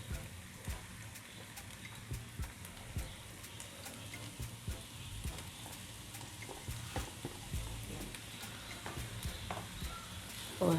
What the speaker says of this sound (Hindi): अब मैं इसमें कीमा शामिल कर रही हूँ। ये 500 ग्राम कीमा है।